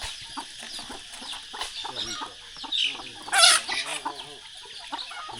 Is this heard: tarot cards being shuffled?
no